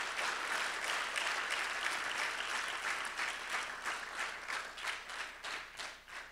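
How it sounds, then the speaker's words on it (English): Crowd applause at the Yoga Sangam 2012 closing ceremony, dense sustained clapping from many hands that thins toward the end into more distinct individual claps, fairly faint and with no talk. "Please give them a big applause."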